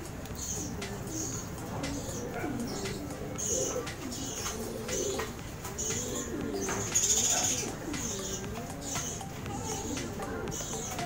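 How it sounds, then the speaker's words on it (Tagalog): Several pet pigeons coo softly and repeatedly in low rolling calls, over a steady background hum. "At ipapakita ko rin sa inyo ang aking mga alagang kalapati"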